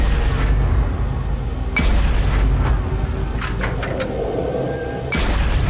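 Sniper rifles fire at rebels in a military video game, several sharp loud cracks spaced irregularly over constant low battle rumble, with a cluster of quick shots in the middle and no talking.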